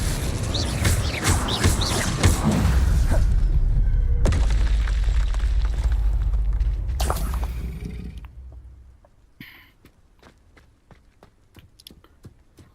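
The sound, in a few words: spells cast in Hogwarts Legacy boss fight, video game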